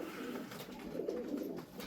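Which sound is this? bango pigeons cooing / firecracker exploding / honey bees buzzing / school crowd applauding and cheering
bango pigeons cooing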